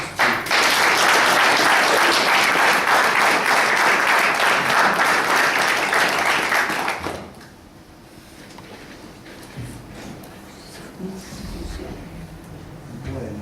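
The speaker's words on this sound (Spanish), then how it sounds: "Aplauso para ellos" Loud, dense applause from an audience at a public talk in Uruguay marking 40 years since the General Strike, lasting about seven seconds before dropping away to quieter room noise.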